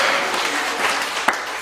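Congregation at a church sermon claps loudly and steadily for the whole moment, a dense wash of many hands with one sharper clap near the end.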